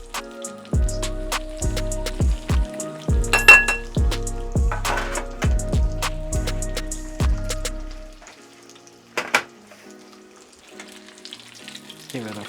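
Thin tonkatsu pork chops frying in oil, sizzling beneath a run of sharp clinks and taps of utensils against the pan, the clattering stopping partway through and leaving the quieter frying with a few last knocks.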